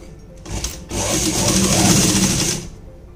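A sewing machine runs a seam on palazzo pants, a brief stop-start whir followed by a steady, close, loud stretch of rapid stitching that ends sharply near the close.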